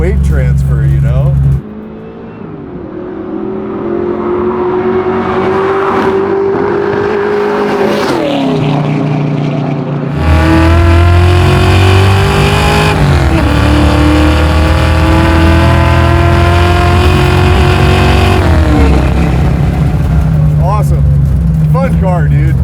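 A 1971 Ford Mustang Fastback with a garage-built stroker engine revs hard and climbs through several gears, loud and close, with shifts breaking the rising whine.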